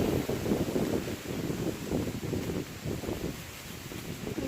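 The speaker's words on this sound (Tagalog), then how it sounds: "Mahangin, pero mainit pa rin sa balat." Steady wind gusting across an open rice field during the harvest in the Philippines, a continuous low rushing noise with faint rustling, no one speaking.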